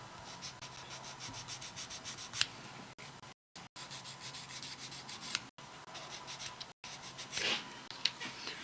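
Steady close scraping and rubbing strokes as paint is worked off a large model big-rig truck part, repeating in a fast rhythm with brief gaps and a few sharper scuffs.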